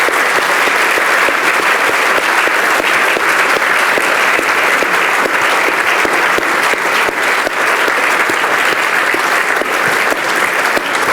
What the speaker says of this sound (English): So can we have another big round of applause for Georgia?